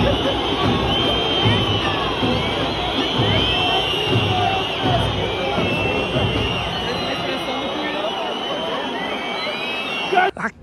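Coritiba football supporters celebrate behind the goal at the Couto Pereira stadium, a dense, steady roar of crowd cheering and chanting sustained throughout, close and loud, with a sharp burst near the end.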